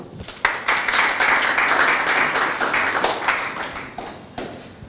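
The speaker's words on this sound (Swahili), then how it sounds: "Tujipigie makofi." Audience applause in a seminar or workshop session, a dense burst of clapping that rises sharply, holds steady and fairly loud for several seconds, then thins out near the end, with no talk over it.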